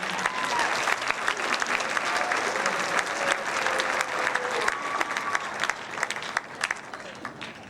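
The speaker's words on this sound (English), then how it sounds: "Please give these artists another round of applause." Sustained audience applause at a high school performing arts awards ceremony, dense steady clapping filling the hall throughout with scattered louder claps near the end.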